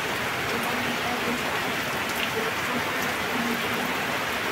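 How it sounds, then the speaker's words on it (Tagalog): Steady heavy rain from Typhoon Goring pours down during flooding in Occidental Mindoro, Philippines, a dense continuous hiss of water drumming on surfaces with no letup. "tuloy-tuloy pa rin ang ulan"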